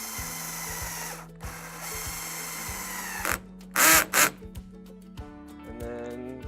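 A power drill set to a soft clutch tightens well nuts while fitting an anchor trolley kit to a Hobie Compass pedal kayak: two short, close whirring bursts over a low steady hum, with small clicks and handling noises around them.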